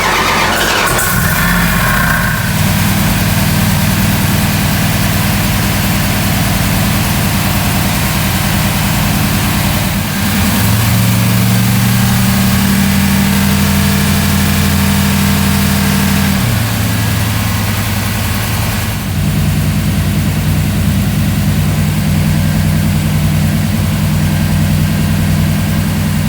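A Mopar 440 V8 on an engine dyno just after its first start runs loudly and steadily, a deep rumbling idle with a high squeal on top and small shifts in engine speed throughout.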